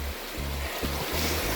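Creek water flows through rainforest near Lorne with a continuous close hiss and rush, broken by a few low thuds.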